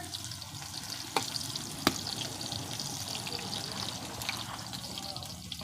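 Chopped onion and ghetkol leaves fry in a pan with a continuous close sizzle and crackle, broken by a couple of sharp clicks from stirring.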